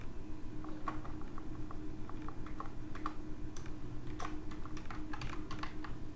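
Someone types steadily on a computer keyboard, a close, continuous run of light key clicks with occasional sharper taps over a faint background hum.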